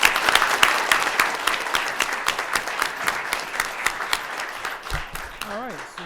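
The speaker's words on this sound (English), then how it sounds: "How about a round of applause for all of you?" Audience at a board meeting breaks into applause, a dense patter of many hands clapping that fades toward the end as a voice begins speaking.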